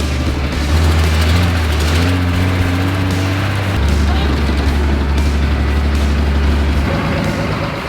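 A vehicle engine runs steadily on a dirt road, a loud low droning rumble with a shifting tone throughout, close and unbroken, while a voice can be heard over it.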